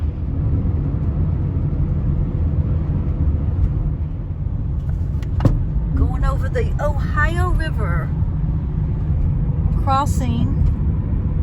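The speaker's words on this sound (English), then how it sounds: "Driving through Kentucky on our way to Cincinnati, Ohio." A car cruising on a highway through Kentucky gives a constant loud low road-and-engine rumble throughout, with a voice briefly heard over it midway and again near the end.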